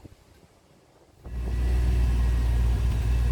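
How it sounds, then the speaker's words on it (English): A truck engine with a new muffler fires up after a quiet moment and settles into a loud, steady low rumble close by. "we'll fire this bad boy up so you guys can hear what it sounds like with this new muffler"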